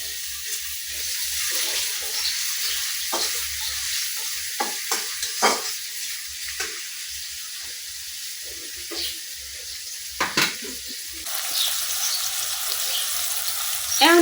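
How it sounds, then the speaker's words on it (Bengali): Raw green tomatoes and onions fry in a pan for noodles in a village kitchen, giving a steady close sizzle broken by occasional stirring scrapes and clinks, with no talking. "পেঁয়াজের সাথে টমেটো গুলো কিন্তু আমি অনেকক্ষণ ভাজি করে নিছি"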